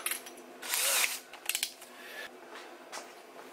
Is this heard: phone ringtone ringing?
no